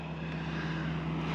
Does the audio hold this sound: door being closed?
no